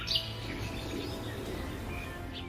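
Birds chirp and call in the distance by Lake Mogan in Gölbaşı, over a steady outdoor background hum, with a brief louder tweet near the start.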